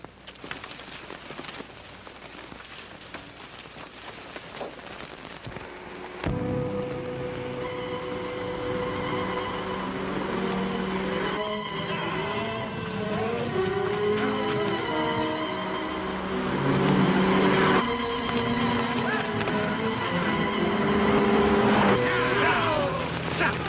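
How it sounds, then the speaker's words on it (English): A car comes on fast, its low engine rumble running under swelling orchestral film music for over twenty seconds, with no voices. "There's a car. Hear it? It's coming fast."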